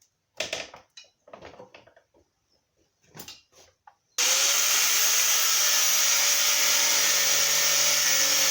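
An angle grinder cuts into part of an old BSA C15 motorcycle frame, a loud, steady high-pitched whine that starts suddenly after a few scattered knocks and clatters and then holds continuously to the end.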